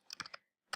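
Several quick keystrokes on a computer keyboard, a short burst of clicks followed by a pause and one more key tap, close and quiet with no talk.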